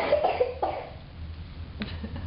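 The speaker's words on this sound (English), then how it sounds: "You have a cough." A child gives a few short coughs close by in a quiet room, clustered at the start, followed by a fainter cough or two later on.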